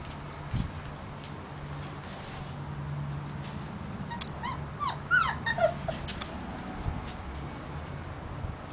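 Puppy whimpering faintly indoors, a few soft high whines clustered toward the middle over a quiet background with light rustling.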